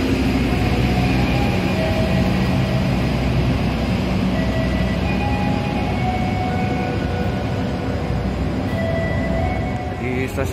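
A train rumbles steadily past at close range in a station, a continuous low roar of wheels and engine with faint high squeals, while voices talk over it.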